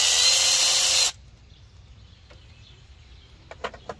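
A power tool removes an injector bolt on a 7.3 Ford diesel engine: a loud, harsh whir runs for about a second and cuts off abruptly, followed by quiet with a few faint metallic clicks and taps.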